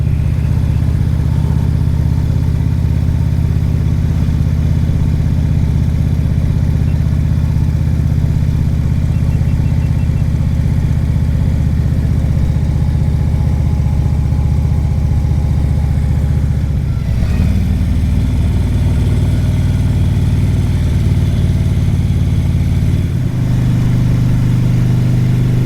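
Car driving through Greater Vancouver, BC, with a loud, steady low engine drone and road rumble heard from inside, shifting slightly in tone partway through, no talking.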